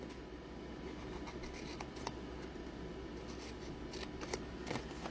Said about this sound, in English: just cut out the score line, up to the score line, fold it back, trim it out